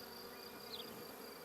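Honeybees buzz steadily at an apiary in the Villuercas geopark of Extremadura, Spain, a region known for its honey; the close, even drone holds without a break and no voices are heard.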